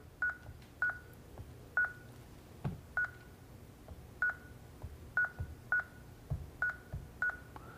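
Phone keypad tones while a Wi-Fi password is typed during setup of a Lyric LCP500L security panel, about a dozen short identical beeps at irregular intervals, clear and fairly close over faint background noise.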